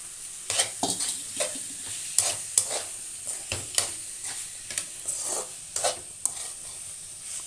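Chopped onions and small potato pieces sizzle in a pan while a spoon repeatedly stirs and scrapes them, producing irregular bursts of clattering over a steady frying hiss.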